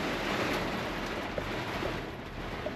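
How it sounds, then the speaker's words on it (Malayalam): Heavy rain pours down in a dense, continuous roar, close and loud, heard from inside a parked vehicle, with a few sharper drips standing out. "മഴ പെയ്ത് പെരുമഴ എന്ന് പറഞ്ഞാൽ പെരുമഴ"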